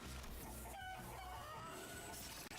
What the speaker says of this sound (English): We see live chickens whose wings and legs are being sliced endlessly.